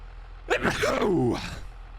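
A single close human sneeze, a sharp intake and then a loud burst that fades out over about a second, heard against a steady low background hum.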